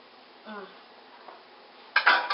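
Metal spoon scraping and clinking against a pan while stirring penne in a gorgonzola and spinach sauce, a soft scrape early then a louder burst of clatter at the end, close by, with a voice talking.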